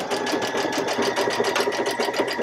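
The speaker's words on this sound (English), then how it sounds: "I'm ready to start sewing" A sewing machine stitches quilt pieces with a fast, even mechanical chatter that runs continuously at moderate volume, with no voices.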